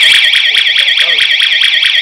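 Ozon smart home siren blaring at high volume, a piercing warbling electronic tone repeating in rapid even cycles, very loud and close with nothing else audible.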